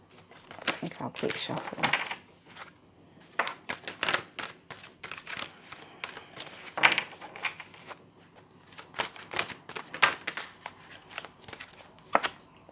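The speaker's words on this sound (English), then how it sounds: "I think I'll keep shuffling." An oracle card deck shuffled by hand in a card reading, giving close, irregular bursts of crisp flicking and tapping with short pauses between them.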